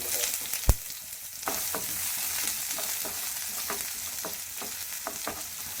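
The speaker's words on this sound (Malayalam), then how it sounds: "പാൻ വെച്ച് എണ്ണ ഒഴിച്ച് കൊടുത്ത് വെളിച്ചെണ്ണ എണ്ണ ചൂടായി കടുക് ഇട്ട് കൊടുക്കാം" Mustard seeds frying in hot coconut oil in a pan for a Kerala-style colocasia curry, a steady sizzle with scattered sharp pops and crackles, one loud snap near the start, no voices.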